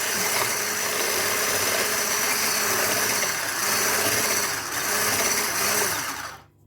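Melted butter being mixed into a sugar batter for a plum and apricot pie, heard as a steady, loud mechanical whirring that runs unbroken for several seconds, dipping slightly midway, then cutting off at the end.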